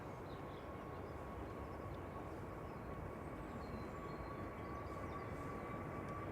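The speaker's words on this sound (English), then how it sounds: "Departing first is EasyJet 2009 to Tenerife South. GUZHM departing now. It's an A320 Neo." An EasyJet Airbus A320neo departs Manchester Airport, its engines a steady broad roar with a faint tonal whine, continuous and distant throughout.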